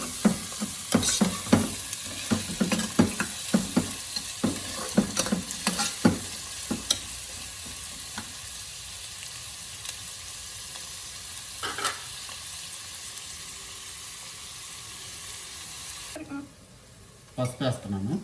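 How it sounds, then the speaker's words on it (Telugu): Onions sauté in hot oil for chicken curry: a spoon scrapes and stirs in quick clustered strokes over a steady sizzle, then the sizzle continues alone more quietly, with one more stir near the end. "సో ఆయిల్ వేడైంది అండ్ ఆనియన్స్ యాడ్ చేసేసుకున్నాము. దాన్ని ఇప్పుడు సాటే చేస్తారు"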